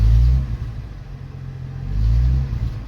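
A 1974 Ford F-250 Ranger SuperCab truck engine turns over and revs, a deep loud rumble that swells at the start, settles to an idle, then rises again near the end.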